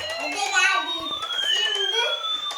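A toy fire truck siren wails with rising and falling electronic tones, close and fairly loud, while people talk over it.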